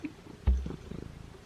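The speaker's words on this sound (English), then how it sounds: "Can you hear her purring?" A cat purring softly and close by, a low steady rumble with a brief louder bump partway through, no voices over it.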